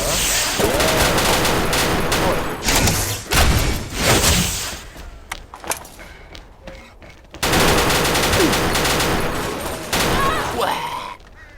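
Video game gunfire comes in dense, loud automatic bursts and rapid volleys that fill most of the stretch. Short lulls break it up, and one brief gap falls near the middle.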